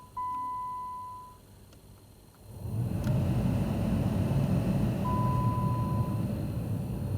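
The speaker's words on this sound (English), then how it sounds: "We're just going to test the blower motor." A 2008-2012 Jeep Liberty sits with the ignition on and the engine off; a couple of electronic chime tones sound, then the cabin blower motor whooshes on and runs loudly and steadily near the microphone.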